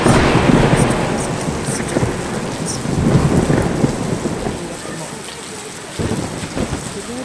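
Heavy rain pours steadily in Qatar while rolling thunder swells and fades in loud, close waves, with the downpour carrying on alone between the rumbles.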